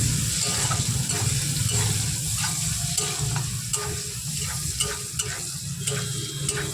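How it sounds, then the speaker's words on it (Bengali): Green chillies with chopped garlic stirred and fried in a pan, a steady loud sizzle with repeated scraping strokes of a spatula throughout, no talking. "এবার এগুলোকে নেড়ে চেড়ে কষিয়ে নেব"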